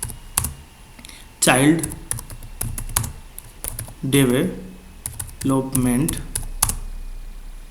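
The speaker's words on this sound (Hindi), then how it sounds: "तो हम टाइप करते हैं" Computer keyboard typing of a project on child development, in bursts of sharp clicks between stretches of nearby Hindi speech.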